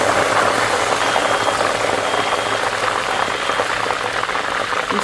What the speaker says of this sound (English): So the oil is heating up now. I'm going to add my onions, my